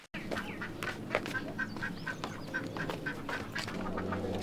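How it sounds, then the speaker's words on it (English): Ducks and ducklings quack in a busy, continuous chorus, many short calls overlapping at close range over faint background noise, with no talk. "Ah, ducklings."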